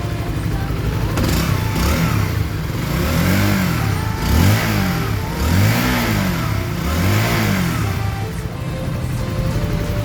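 A repaired Honda CB150 motorcycle engine, its broken balancer and cracked crankcase fixed, revs up and down close by in a series of smooth, repeated throttle blips over a running idle.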